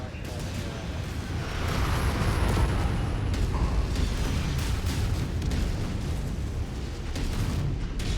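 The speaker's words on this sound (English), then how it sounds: "Commencing bomb run now" Heavy rumbling explosions from a bomb run in the mech combat game MechWarrior 5, a dense continuous roar of blasts and booms lasting several seconds without a pause.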